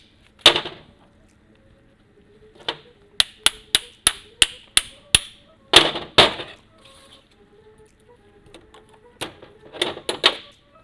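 Metal U-joint being struck all the way around during installation on a driveshaft, a sequence of sharp, close hammer knocks in quick rhythm, with a few scattered louder taps before and after, no talking.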